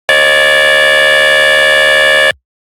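A sustain pitch-bass synth, filtered with added width and dimension effect, blares as one loud, steady, horn-like tone for over two seconds before stopping sharply, with nothing else heard.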